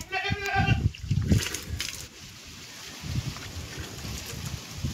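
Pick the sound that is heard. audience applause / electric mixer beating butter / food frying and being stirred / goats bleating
goats bleating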